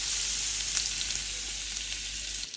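Butter, about 20 grams, melting in a hot pan for a diet chilli chicken, giving a steady close sizzle and crackle that holds throughout, then drops off sharply near the end.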